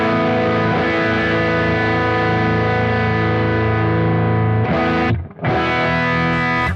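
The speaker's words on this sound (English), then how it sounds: "I'm going to turn up the distortion." Electric guitar through a Positive Grid Spark 40 smart amp with distortion turned up, a loud sustained crunchy chord ringing out in a modern rock tone, then cut off briefly before another chord starts.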